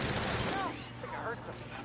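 Gunfire in The Outer Worlds crackles as a short rapid burst of shots, loud and close, fading into mixed game effects within a couple of seconds.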